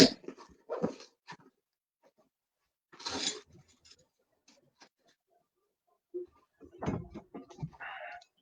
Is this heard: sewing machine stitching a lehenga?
no